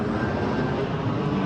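Steady broadband roar of a fixed-wing airplane passing overhead near a cemetery beneath a flight path, loud and continuous with no voices.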